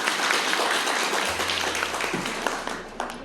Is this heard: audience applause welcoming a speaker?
yes